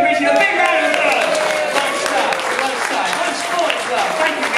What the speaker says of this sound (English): Let's give Richard a big round of applause